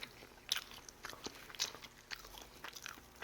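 Close, quiet chewing of fermented okara whole wheat bread, with repeated soft crunchy bites and mastication in an irregular rhythm, no talking.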